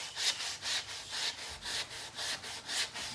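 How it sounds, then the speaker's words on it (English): Steady back-and-forth sanding on a chalk-painted wood biscuit Christmas tree craft, about seven even rasping strokes in quick rhythm, close and moderately loud with no talking. "I'm like sanding away."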